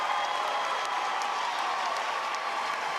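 Crowd at a state high school swimming championship applauding and cheering after a race finish, a dense, steady wash of clapping filling the venue, with a few whistles and shouts poking through.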